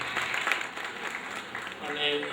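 An audience at an evening charity bhajan and mimicry show in Ahmedabad claps in a dense, steady patter, moderately loud and unbroken for a couple of seconds.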